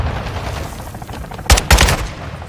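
Gunfire in the video game Call of Duty Modern Warfare 2: two loud, sharp bursts of shots in quick succession, close and punchy, over a low rumbling game ambience.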